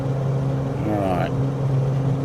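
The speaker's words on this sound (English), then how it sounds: "And now we're on full throttle." A Ryan Navion B light aircraft's engine runs at full throttle in Microsoft Flight Simulator, a steady loud droning hum with a brief rising whine partway through, continuous throughout.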